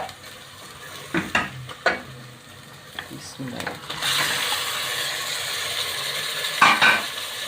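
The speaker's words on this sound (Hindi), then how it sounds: "हम तकरीबन 2 से 3 मिनट मटन को भूनेंगे" Mutton goes into hot Dalda cooking oil: a few sharp clanks of stirring, then a dense, steady frying sizzle builds up close by.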